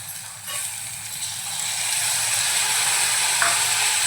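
Onion and soaked chana dal sautéing in a pan for a Malvani dal-kanda dish, a steady close sizzle that grows slightly louder, with a faint clink of stirring.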